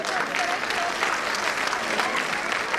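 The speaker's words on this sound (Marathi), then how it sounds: "सर्व पालकांनी उरलेल्या शेवटच्या गाण्यांसाठी आपापल्या मुलांना उत्तेजन देण्यासाठी त्यांचं कौतुक टाळ्या वाजून करावं." Parents at a pre-primary school's annual gathering give dense, steady applause. The clapping is close and continuous for a few seconds, with faint crowd murmur underneath.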